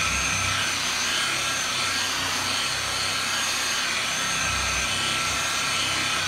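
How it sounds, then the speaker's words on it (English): A single action buffer polishes a surface, giving a loud, steady broadband whir with a low motor hum underneath that holds constant throughout, with no talk. "Now you see I'm starting to tilt the buffer up on more of an angle."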